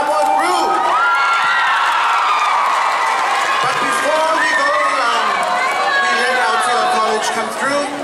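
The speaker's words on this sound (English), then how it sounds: "Just a little reminder for our young youth to stop screaming" A loud crowd of young people at a school Polyfest performance cheers, whoops and screams continuously, a dense wall of shouting and chatter filling the hall throughout.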